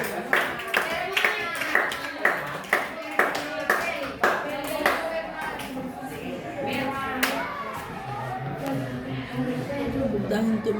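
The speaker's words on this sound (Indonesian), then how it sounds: "Tepuk tangan untuk" Classroom clapping breaks out in a run of sharp, rhythmic hand claps that settles into scattered patting, with children's voices talking over it.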